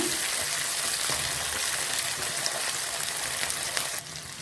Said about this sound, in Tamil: அடுத்து சின்ன வெங்காயம் போட்டுக்கலாம், நல்லா வதக்குங்க.